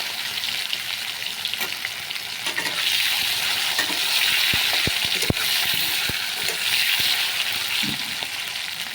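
Potatoes fry in hot oil with bay leaf and cumin seeds in a pan, a continuous loud sizzle broken by occasional sharp scrapes and taps of a spatula against the pan.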